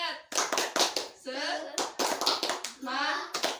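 Classroom children perform a rhythmic spirit clap chant, with sharp patterned hand claps alternating with their voices calling out together in short bursts.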